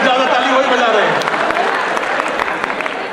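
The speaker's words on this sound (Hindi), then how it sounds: "देखो, हस्बैंड ज्यादा ताली वही बजा रहे हैं।" Husbands in an audience at a Mumbai gathering clap along, producing a steady, dense wash of applause that runs throughout and slowly thins toward the end, with a voice faintly over the start.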